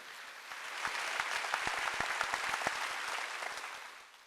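A church congregation claps during a Sunday worship service, a broad sustained patter of many hands with sharper individual claps standing out, fading toward the end.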